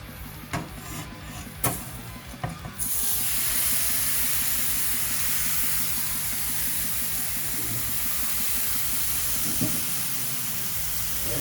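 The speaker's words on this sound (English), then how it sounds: "There's that sizzle." Cheesesteak filling sizzles steadily in a hot pan, a continuous broadband hiss that rises sharply after a few seconds of quieter clatter and holds loud and even to the end, with no talking.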